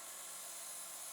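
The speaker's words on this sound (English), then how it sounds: "Now I'll use my spindle gouge." A spindle gouge cuts wood spinning on a lathe, giving a brief, steady hissing, scraping whir with no talk.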